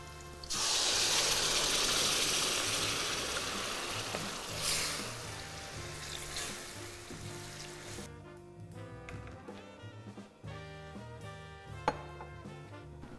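Blended peeled tomato hits a hot pan with garlic, bringing a loud hissing sizzle that fades over several seconds into a quieter, settled bubbling.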